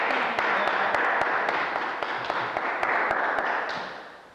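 Audience applause at a live talk show, a dense burst of clapping with a few sharp claps that fades out toward the end.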